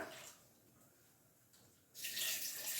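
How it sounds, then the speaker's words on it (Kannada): Water poured into a mixer grinder jar while grinding cowpea masala curry: a soft early splash, a quiet gap, then a loud steady rushing pour in the last second, with no talking. "ಈಗ ಇದೇ ಮಿಕ್ಸಿ ಜಾರ್ನಲ್ಲಿ ಸ್ವಲ್ಪ ನೀರು ಹಾಕಿ ಮಿಕ್ಸ್ ಮಾಡಿ"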